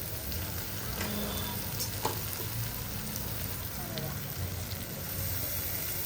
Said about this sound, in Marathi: चला आपण मस्त मिक्स करायचं आहे थोडं वेळ